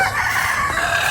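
A rooster crows loudly and close among chickens on a farm under coconut trees, one sustained call filling the short moment.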